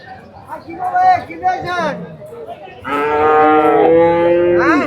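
Cattle moo loudly at a busy cattle market at Ashulia, with a few short bellowing calls followed by a long drawn-out moo close by, and faint crowd chatter behind.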